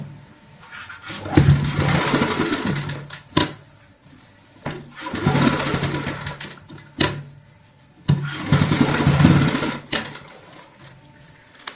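A sewing machine stitches a round cushion cover in three loud bursts of rapid whirring, each lasting a couple of seconds, separated by short pauses and sharp clicks as the fabric is repositioned.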